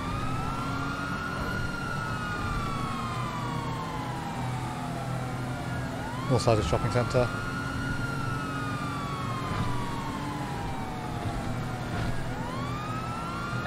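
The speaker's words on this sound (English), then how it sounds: "There's at least three police cars with the sirens on." Several police car sirens wail in the game GTA V, rising and falling in long sweeping cycles throughout, with a brief cluster of sharp clicks and thumps near the middle and a voice speaking over the siren.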